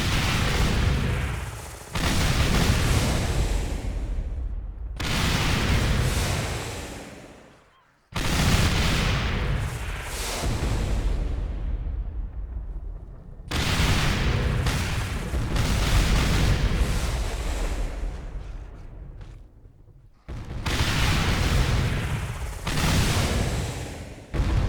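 A rocket launcher of the nuke variant in Dead Island fires rockets in repeated long bursts of loud, booming blasts, broken by short gaps, close and with no voices.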